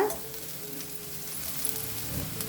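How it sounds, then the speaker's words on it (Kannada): Cauliflower fries on high flame with a steady, fairly soft sizzle and occasional small stirs, with no voices. "ಇದನ್ನು ಹೈ ಫ್ಲೇಮಲ್ಲಿನೇ ಈ ಥರ ಹುರ್ಕೋಬೇಕು ನೋಡಿ"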